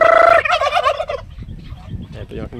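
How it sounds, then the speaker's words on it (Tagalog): Several pet turkeys gobble loudly in a rapid, rattling burst, followed by quieter, scattered gobbles and low clucks close by. "Ito yung aking mga pabo."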